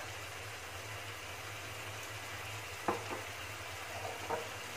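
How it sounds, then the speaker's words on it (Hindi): Onions fry in a pan for a chicken masala curry, a soft continuous sizzle under a low steady hum, with a few sharp utensil clicks near the end; quiet overall, no voices. "मैं यहाँ पे ऑनियन को फ्राई करूंगी"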